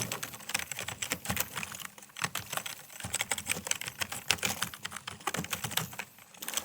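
Fingers tap rapidly on a computer keyboard, a close, busy stream of crisp clicks with short pauses, alone and without talk.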